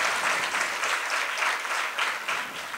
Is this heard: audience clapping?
yes